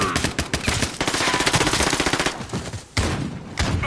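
UMP submachine gun firing in Call of Duty: Modern Warfare, rapid sustained automatic bursts with a short pause before firing resumes, loud and close.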